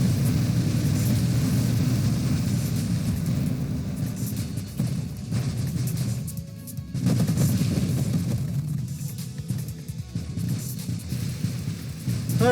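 Dense, continuous rumbling of missile explosions and weapon fire in the space shooter game Nova Drift, loud and sustained throughout with brief dips, no voices.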